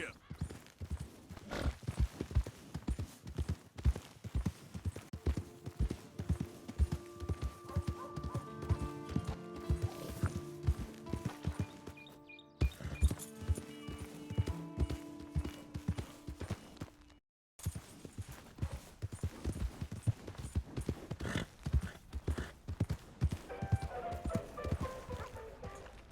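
Horse hooves clip-clopping at a steady riding pace in the video game Red Dead Redemption 2, close and rhythmic, under game music and effects, with a brief silent gap partway through.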